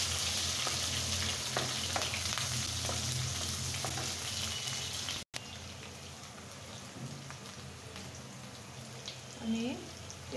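Chopped garlic, onion and green chillies sizzle steadily in hot oil in a pan, a continuous crackling hiss that carries through the clip with a brief break partway, with faint stirring noises.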